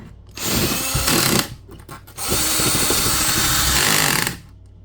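Power drill boring into a wall during a fiber optic line install, grinding in two loud bursts with a brief pause between, its pitch and load changing as the bit strikes a stud.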